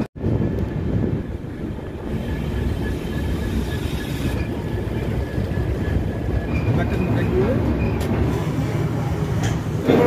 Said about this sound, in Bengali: সো বন্ধুরা 570 কিলোমিটার জার্নি করে ট্রেন এনজিপি পৌঁছে গেছে।